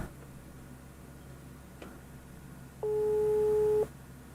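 A single steady telephone tone sounds for about a second over low background hum, following a faint click.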